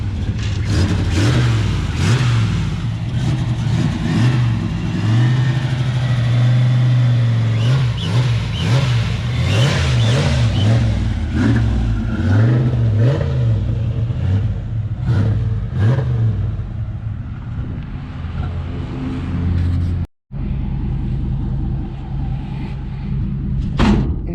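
A turbocharged Fox Body car engine revs up and down repeatedly through a loud exhaust, rising and falling in pitch, then a brief cutout before it settles to a rumbling idle.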